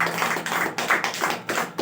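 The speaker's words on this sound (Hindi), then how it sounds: "ताली मारेंगे" An audience claps hands at a Hindi church prayer gathering, a steady run of rhythmic, fairly close claps that lasts under two seconds with no talk over it.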